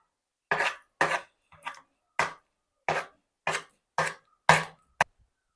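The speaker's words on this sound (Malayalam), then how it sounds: "ഇനി നമുക്ക് ചക്കയും ചിക്കനും കൂടി ഒന്ന് മിക്സ് ചെയ്ത് വെക്കാം" A spoon knocks against a pot while jackfruit is mixed into chicken curry: about nine sharp, evenly spaced clanks, each short and clear, with silence between and no voices.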